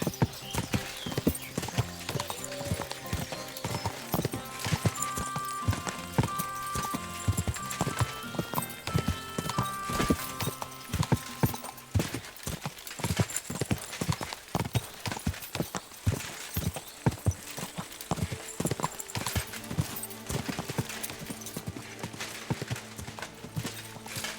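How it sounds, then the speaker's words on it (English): Horse hooves clip-clop in a steady, rhythmic patter throughout a video game scene, close and clear over a busy background of game music and ambience. "This horse must have cost a pretty drum."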